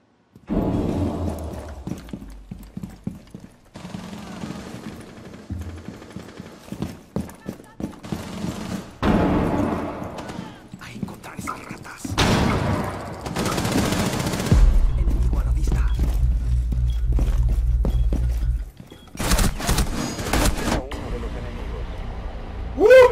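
Gunfire in a ranked match of the video game Rainbow Six Siege, with bursts of rapid shots and sharp impacts scattered among sustained loud rumbling, interrupted by someone talking excitedly.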